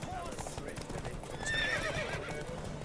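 Horse hooves clip-clop at a gallop in The Witcher 3: Wild Hunt, with a whinny breaking through the steady hoofbeats and voices calling out over the ride.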